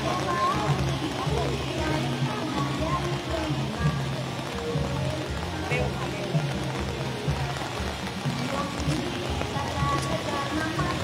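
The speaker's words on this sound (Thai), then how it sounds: "ตอนนี้ฝนก็ตก" Steady rain falls during an outdoor procession, a continuous dense patter on surfaces with a crowd murmuring and voices speaking over it.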